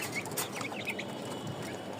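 Fayoumi chickens cluck softly while they feed, with a few short bird calls and chirps over a low farmyard background.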